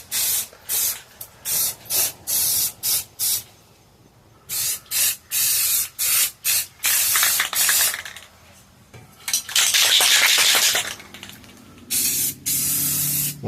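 A spray paint can hisses out black paint in repeated short bursts, followed by a longer continuous spray and then more quick spurts, close by with pauses between them.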